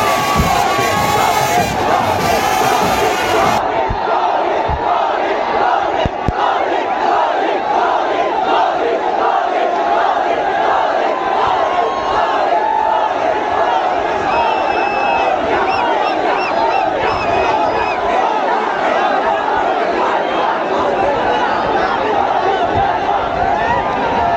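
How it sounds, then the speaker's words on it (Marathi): A huge crowd at a World Cup victory parade in Mumbai cheers and chants continuously in a dense, roaring wall of voices, with shouting and whistles mixed in throughout. "गर्दी जाम भारी आहे."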